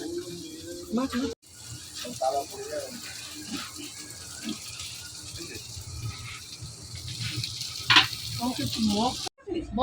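Hilsa fish fries in a home kitchen with a soft sizzle, broken by clatter and splashing water as people talk nearby.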